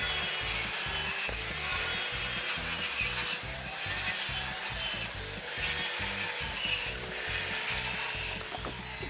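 Power saw cutting wooden pool deck boards, a steady rasping cut with repeated rhythmic strokes and slight pitch shifts, continuous and fairly close.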